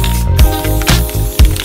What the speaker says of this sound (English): I'm gonna go ahead and spray a second coat